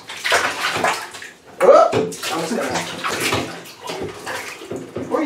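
Water splashes and sloshes as ferrets are rinsed in a bath, with loud bursts of pouring and movement mixed under near, continuous chatter from people.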